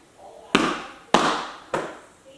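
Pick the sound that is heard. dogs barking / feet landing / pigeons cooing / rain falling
feet landing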